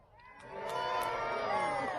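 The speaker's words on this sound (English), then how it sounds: "I'd like you to give me a good shout or a cheer if you like football" A crowd at a jousting tournament at Bolsover Castle cheers and shouts, the noise swelling after a quiet start into a sustained loud roar of mixed voices, with children's shouts and whoops rising above it.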